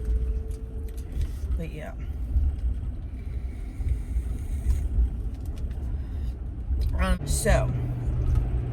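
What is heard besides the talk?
car driving on the road, heard from inside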